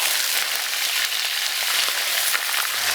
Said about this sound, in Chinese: 咱们给它炒一下上色啊！